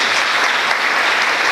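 A hall audience at a college first-year inauguration breaks into loud, sustained applause, a steady wash of many hands clapping with no voices over it.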